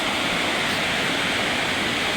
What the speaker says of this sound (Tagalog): napakalakas ng ulan. Buhos ng ulan.